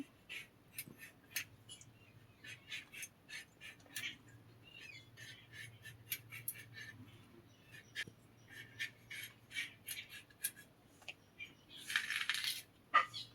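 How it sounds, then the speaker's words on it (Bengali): Pointed gourd (potol) being sliced with a knife for a fish curry with potatoes, giving a run of quiet, crisp cutting taps at an uneven rhythm, close by, with a steady low hum beneath and no talking. "পটলগুলো কেটে নেব।"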